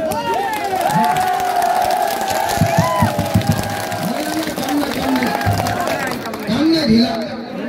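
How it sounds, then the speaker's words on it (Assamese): A crowd at an outdoor political rally claps and cheers loudly and continuously, with shouts mixed in and a speaker talking over the noise through a loudspeaker. "খুব জোৰকে আপোনালোকৰ পৰা হাত তালি এটা বিচাৰে"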